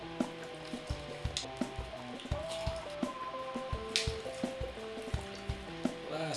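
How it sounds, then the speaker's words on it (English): Fresh lemons are pressed rind side up in a hand citrus juicer, making a quick series of close, wet squelches and squishes with juice dripping between them. "Let's grab our lemons, rind side up, give them a squeeze."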